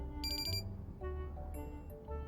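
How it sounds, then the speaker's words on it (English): A phone alarm set in the game Love and Deepspace rings with a repeating electronic chiming melody and short bright beeps, steady and alone without talk. "Oh, that's an alarm I set."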